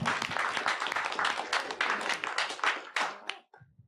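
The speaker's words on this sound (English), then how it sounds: "Let's give Javan a round of applause." Audience applause at a talk on social media results, a steady dense patter of many hands clapping for about three seconds before it cuts off, with a brief voice at the very end.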